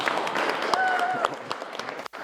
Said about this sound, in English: Don't stop applauding.